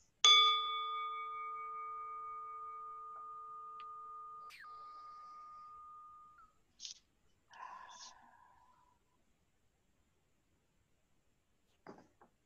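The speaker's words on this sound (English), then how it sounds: "with the ringing of this bowl, we begin our service" A meditation bowl is struck once at the opening of a church service and rings on loud and clear, its tone slowly fading over several seconds before a few soft knocks and light sounds follow.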